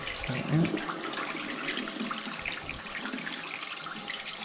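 Hot water runs steadily from a newly installed 8-inch widespread bathroom sink faucet, a close, continuous hiss and splash into the basin with no talk over it.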